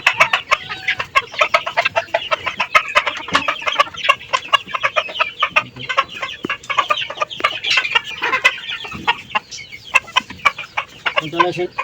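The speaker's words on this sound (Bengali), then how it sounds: "দেখেন কত সুন্দর করে মুরগিগুলো খাওয়া" Many chickens cluck and peck steadily and close by while eating on a rooftop garden, a busy chorus of short clucks with occasional louder calls.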